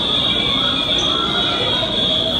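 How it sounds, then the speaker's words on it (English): A building fire alarm sounds during an active shooter training exercise, a loud steady high-pitched tone that continues without a break over a rumbling room background. "There's a fire alarm going."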